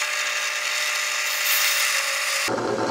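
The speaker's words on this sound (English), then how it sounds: "I'm going to drill down in there." A power drill bores a hole into a wooden gear for an automata base, giving a loud, steady high-pitched whir that runs continuously for about two and a half seconds before cutting off abruptly.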